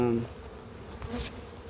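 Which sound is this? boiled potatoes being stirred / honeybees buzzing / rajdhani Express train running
honeybees buzzing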